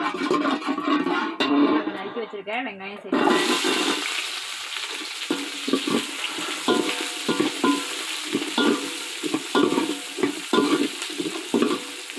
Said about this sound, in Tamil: எண்ணெய் சூடாகிட்டு சோம்பு சேர்த்துக்கிறேன் அது கூட பட்டை லவங்கம் இதெல்லாம் சேர்த்துக்கிறேன்